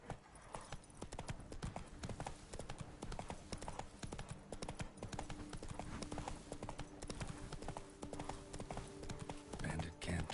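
Horse hooves gallop in The Witcher 3: Wild Hunt after a spoken command, a fast, continuous clip-clop drumming close by for the whole stretch, with game ambience and some talk mixed in near the end.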